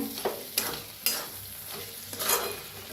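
Curd, potatoes and coriander being stirred together in a pan, with soft wet scraping and a faint sizzle broken by several spoon strokes at an irregular pace, close and fairly quiet.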